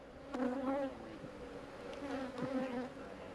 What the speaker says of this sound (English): they're not happy bees today. They're all over us as we work.